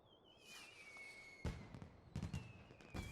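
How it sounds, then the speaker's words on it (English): Fireworks burst in the video game Final Fantasy XIV, several sharp booming cracks with crackling tails following a rising whistle, alongside a sustained high tone, all fairly quiet. "And some more fireworks."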